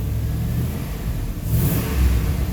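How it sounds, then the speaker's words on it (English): A Chevy Silverado engine revving with an intermittent internal AC compressor noise, a steady close mid-low mechanical drone that swells slightly toward the end, heard alone without talk. "And it's just the compressor itself internally making noise."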